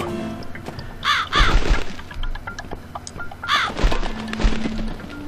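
Crow caws in The Cat Lady video game: two bursts of harsh, repeated caws, a few seconds apart, loud and close over a low ambient game drone, with occasional thuds.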